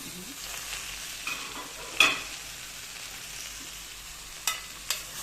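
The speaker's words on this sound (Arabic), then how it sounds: "انا هفضل اشوح المكرونه بالبصل" Pasta and onion sautéing in a pan make a soft, steady sizzle with a few sharp clinks of a spoon against the pan as it is stirred.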